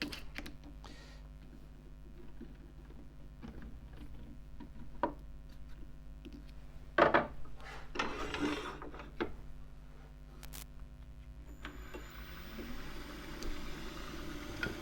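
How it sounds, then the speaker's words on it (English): A half-inch spindle gouge cuts a warped, rough-turned box elder wood plate spinning on a lathe. Soft, steady scraping and a low machine hum run throughout, with a sharper, louder burst of cutting near the middle. No one speaks. "Still carrying on to the whole thing with the ½ inch spindle gouge"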